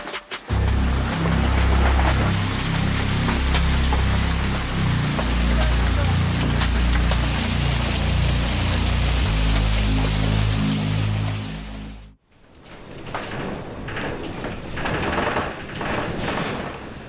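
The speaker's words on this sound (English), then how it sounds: "This hailstorm is really shaking things up," A hailstorm batters surfaces with a dense, loud, continuous clatter, then cuts to a duller, more muffled pounding in its final seconds.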